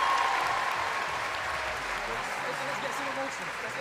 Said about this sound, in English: So, round of applause to Imam Hussein TV.